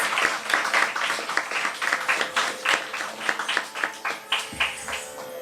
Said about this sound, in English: one more round of big applause for Sarah and Rushada, please